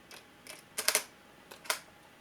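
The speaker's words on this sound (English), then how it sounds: "it's a slightly funky shutter sound, and it's a shutter which goes" A few quiet mechanical clicks of a Nikon D500 camera shutter, spaced irregularly, the sharpest ones paired close together.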